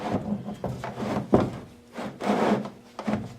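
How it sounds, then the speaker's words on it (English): A DeWalt drill with a 5mm bit bores in short, close bursts. A low motor hum sits under rough, grinding cutting noise, and the uneven pulses are broken by brief pauses. "got my DeWalt drill"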